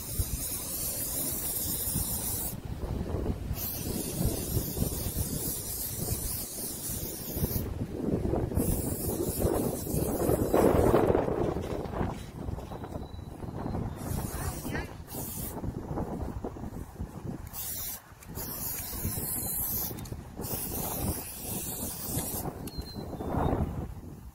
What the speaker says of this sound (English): I'm going to go ahead and spray paint both of them with even coats